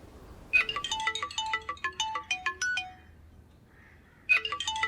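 Phone ringtone of an outgoing call, a bright, loud melodic run of chiming notes that plays for about two seconds, pauses, then starts again.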